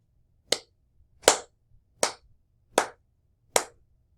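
Five sharp hand claps sound one after another at an even, steady pace in a quiet room, each crisp and separate with short silences between.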